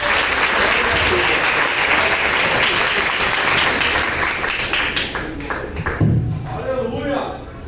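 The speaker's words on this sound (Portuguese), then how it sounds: "Aplauda o Senhor." Sustained clapping from a church congregation at an evening service, loud and dense for about five seconds, then thinning into scattered claps as voices begin to rise in the room.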